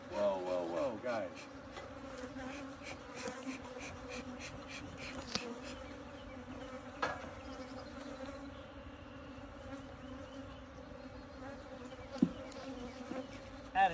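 Aggressive honey bees swarming at a hive, a dense, close, continuous buzzing drone that fills the whole stretch, with a few faint knocks and rustles along the way.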